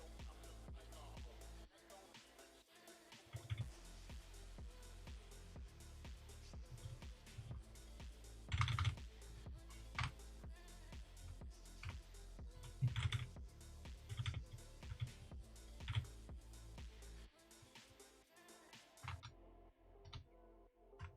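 Loud, clicky mechanical computer keyboard typed in rapid irregular bursts, keystrokes clattering close up throughout with a few heavier thumps, over faint game sound.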